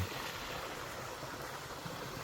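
Water rushes in an irrigation ditch in rural Japan after heavy rain, making a steady, even hiss of flowing water with no breaks.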